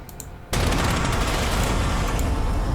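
A flamethrower attack hits an anti-tank gun in Panzer Corps 2, a sudden loud continuous roaring, crackling blast that cuts in abruptly and sustains to the end.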